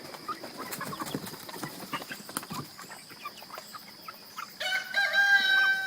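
Month-old chicks of a fast-growing breed peck and scratch at feed with busy tapping and scattered soft peeps, ending in a louder sustained squawk close by.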